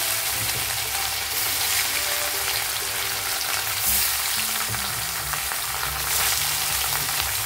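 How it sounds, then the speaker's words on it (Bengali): Pieces of rohu fish fry in hot oil in a kadai with a loud, continuous sizzle and bubbling, plus occasional stirring scrapes, close up and without any talking. "এখন এক এক করে মাছের পিসগুলো আমি দিয়ে দেবো।"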